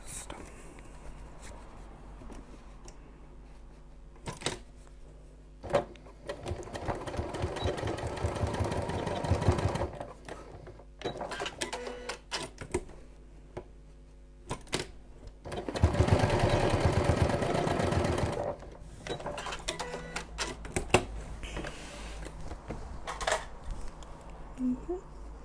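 A sewing machine stitches double lines on a fabric medication bag organizer, running in two long whirring bursts separated by quieter handling noises and shorter start-stop runs, heard close up.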